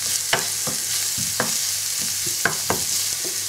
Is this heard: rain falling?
no